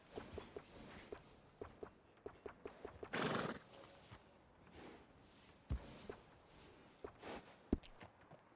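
Faint horse sounds in a video game: a whinny in the middle, with light hoof clops and soft thuds scattered before and after, fairly quiet overall.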